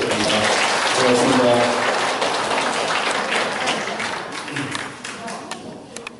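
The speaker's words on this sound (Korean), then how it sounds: "우리 지금까지 사회에 오신 우리 맹사회장한테 큰 박수 한 번 더 부탁드립니다" An audience at a regional economic forum in a chamber of commerce hall applauds in a sustained wash of clapping that gradually thins out while a voice speaks briefly over it.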